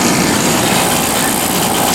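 The compressor of a 2000 Whirlpool 10,000 BTU air conditioner runs with a loud, constant, harsh drone that fills the clip at a steady level, close up and unbroken.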